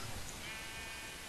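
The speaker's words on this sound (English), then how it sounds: "some loose colored sheep" Sheep bleat in a video game, one faint, short call heard against a steady windy, stormy background rush, with no talk.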